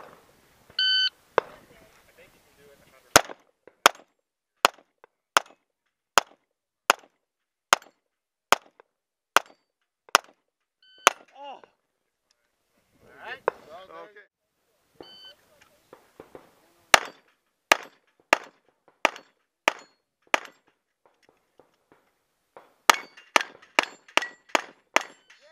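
Walther PPQ 9mm pistol shots ringing off steel targets at a shooting range, a long series of sharp cracks each followed by a metallic clang, spaced evenly with some pauses and a quicker volley near the end, with faint voices in between.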